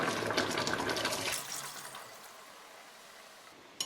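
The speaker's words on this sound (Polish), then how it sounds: "smażone rolatki zalewam wodą grzybów, zmniejszam grzanie i dolewam też trochę bulionu." Mushroom-soaking water pours over fried pork roulades in a pan for a Polish pork-and-mushroom dish, a loud, close gush lasting about a second and a half before dropping to a quiet simmering hiss.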